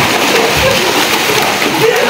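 Water sloshing and splashing in a small home pool as someone jumps in, a continuous choppy splatter close by with voices talking over it.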